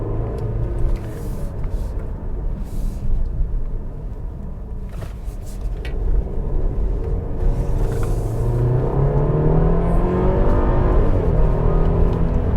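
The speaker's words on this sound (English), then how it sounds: "Just put this thing in Sport Plus mode and just floor the accelerator" A 2021 Mercedes-Benz GLC300 with a 4-cylinder engine accelerates hard at full throttle in Sport Plus mode, its steady engine rumble and whir rising in pitch through the run, heard from inside the car.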